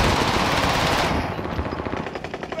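Sustained machine gun fire in a shooter video game, loud and close, with a dense continuous burst that breaks into rapid distinct shots.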